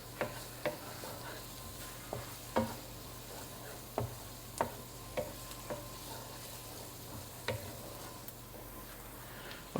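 Garlic, onions and peppers sizzle in a pan on the stove while a utensil stirs them, a soft steady frying hiss broken by irregular scraping clicks and taps, with no talking.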